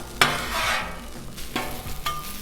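Chorizo frying on a Blackstone griddle, a close steady sizzle broken by sharp spatula scrapes and taps against the flat-top surface.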